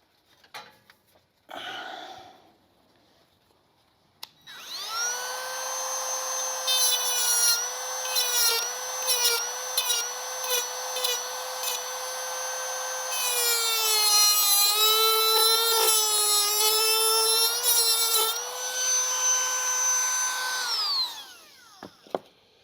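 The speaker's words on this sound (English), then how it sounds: "Now, I want to put a slot there so my screwdriver works well on it." A power tool cuts a screwdriver slot into a small part during restoration of a 1967-1968 Cougar or Mustang quarter window roller, a loud sustained high-pitched whine with shifting pitch and grinding bursts, close, winding down at the end.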